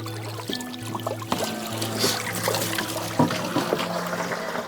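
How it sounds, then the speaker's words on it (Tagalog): Water is poured into a container while someone fetches water on Moamboc island, a steady trickling splash under a low, constant hum with a few faint clunks, close by and moderately loud. "Dito nag-iigib ng tubig si Tatay Rusibal."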